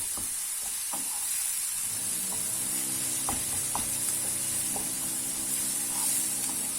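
Onion and courgette sizzle in a pan as they are stirred, a steady soft frying hiss broken by faint scraping and clinks of the spoon, quiet and close with no voices.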